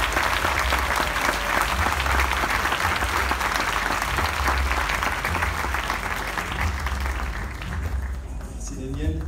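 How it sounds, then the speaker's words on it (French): A large conference audience applauds steadily for about nine seconds, a dense and loud wash of clapping with a few voices mixed in, fading slightly near the end. "On peut l'applaudir."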